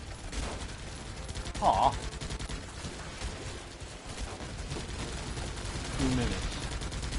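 Gunfire in the video game Guns Up, with scattered shots and short bursts of varying loudness spread across the stretch, mixed with game background sound and a voice briefly exclaiming.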